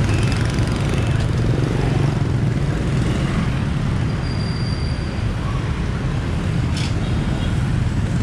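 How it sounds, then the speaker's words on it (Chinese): Dense motorcycle traffic on a busy street in Vietnam makes a continuous, loud roadway rumble of many engines blending together, with occasional faint higher noises over the steady wash. "这边摩托车又多"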